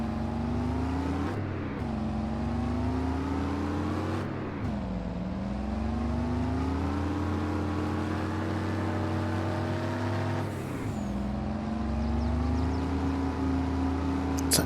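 A grain truck engine in a farming video game drones steadily with a low diesel rumble, rising and falling through several revs and gear changes, loud and continuous with no talk over it.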